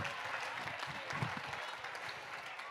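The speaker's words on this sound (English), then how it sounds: "Give yourselves a round of applause." Audience applause at a hybrid fundraising gala and live auction for a home builders foundation, steady clapping from a crowd that continues throughout at moderate level.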